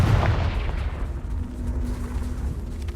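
A Confringo blasting spell explodes in the Hogwarts Legacy video game: a heavy booming blast at the start that decays into a low rumbling tail with a faint steady hum, and no talking.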